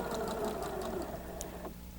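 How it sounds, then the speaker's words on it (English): A sewing machine stitching hexagon quilt pieces with dark thread, running in a fast, steady mechanical whir close by before stopping abruptly near the end. "Now I've put dark thread in my sewing machine so you can really see these stitches."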